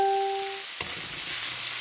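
Beef innards sautéing in a pan for bopis, a steady close sizzle and crackle of frying that picks up after a brief tone and a clatter.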